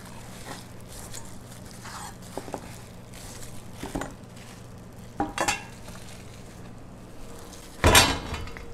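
Scallions, about ten, stirred into a pan while making mackerel kimchi stew, with soft frying sizzle under scattered scraping and clacking of a utensil against the pot and one louder clatter near the end.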